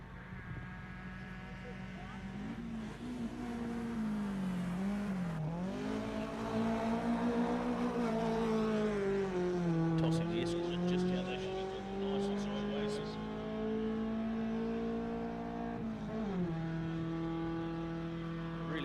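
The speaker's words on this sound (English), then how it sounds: "As we see Steve Catamol ex-Royce Watson and Suzuki powered Datsun." A Suzuki-powered Datsun race car climbs the Ben Nevis Station Golden 1200 hill climb, its engine revving hard and continuously, with pitch rising and falling through gear changes at moderate distance.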